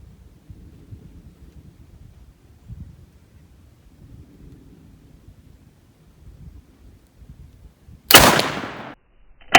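A single 12 gauge Fury slug fired at an outdoor range gives one loud, sharp blast near the end, with wind and faint background rumble before it and a second short hit just after.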